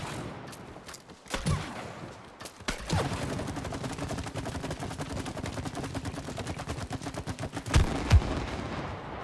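Rapid blasts and booms from It Takes Two gameplay in co-op play: a fast, steady train of sharp repeated hits after a few scattered bangs, with louder thumps near the end.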